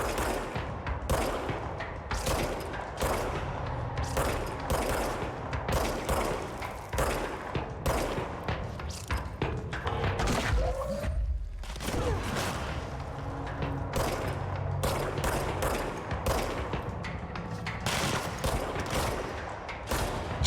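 Continuous close gunfire in the video game Control, a dense, steady stream of loud shots with only a brief lull partway through.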